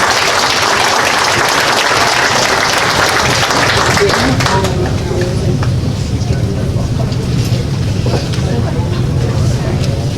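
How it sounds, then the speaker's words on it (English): Applause from the audience at a Lions Clubs district 31 O 2024 awards ceremony, a dense broadband wash that is strongest early and thins out, with murmuring voices and hall noise running underneath. "All those clubs deserve a round of applause."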